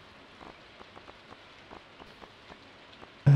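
Rain falls in the Stardew Valley video game as a soft, steady patter with faint scattered drops across a few seconds, then ends in a sudden louder burst.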